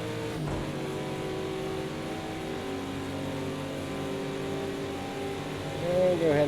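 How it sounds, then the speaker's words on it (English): A race car in Project Cars 2 accelerates downhill at Bathurst, its engine holding a steady, sustained drone that rises in pitch near the end. Someone talks over the engine throughout. "let's accelerate down the hill"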